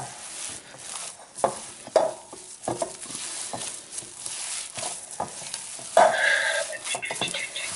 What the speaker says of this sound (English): So I like to use 2 hands to mix this